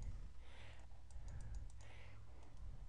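A single key press on a computer keyboard, heard as faint soft taps and clicks over a steady low hum, with no voices.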